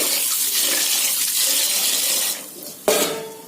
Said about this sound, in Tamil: தண்ணி ஊற்றி கழுவிக்கலாங்க